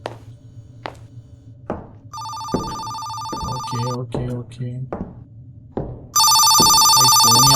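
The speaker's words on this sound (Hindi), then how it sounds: "फिर से फोन रिंगिंग" A phone rings loudly in repeated electronic bursts, with two separate ringing spells and a pause between them, while someone talks over scattered soft thumps.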